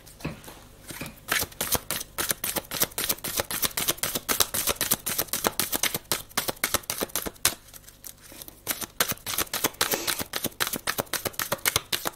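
Tarot cards are shuffled by hand in a steady stream of quick, crisp riffling and slapping bursts, close up and alone with no talking.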